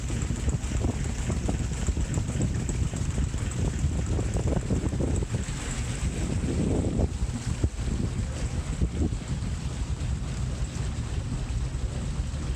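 Steamboat 'Persistance' running, heard from inside the boat's cabin, a steady low rumble and wash of broadband noise throughout with no talk.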